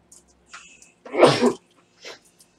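A single sharp sneeze bursts out close up, with a brief inhale before it and a faint sound after.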